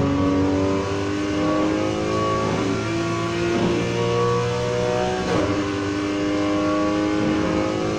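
A 2018 Porsche 911 Targa 4 GTS revs and accelerates in the Need for Speed Heat racing game with traction control off, loud continuous engine drone with rising and falling pitch sweeps, no talk.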